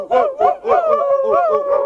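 Several dogs barking and howling together, repeated yelping howls in an uneven rhythm, fairly close and loud.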